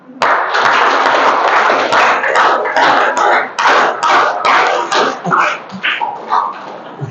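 A school audience at a National Service Scheme camp claps loudly and steadily to welcome a guest, a dense burst of applause that thins slightly toward the end.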